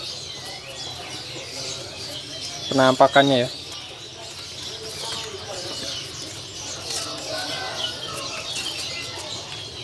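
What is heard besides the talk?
birds calling in a bird-selling kiosk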